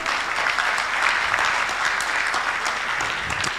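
A full hall at a general assembly keeps clapping in a thick, continuous roar of many hands, even in level from start to finish without pauses or voices.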